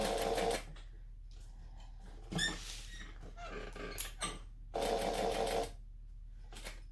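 A sewing machine runs in short bursts, stitching forward and then back-stitching, with squeaky whirring runs separated by pauses and small clicks, fairly close and without talk.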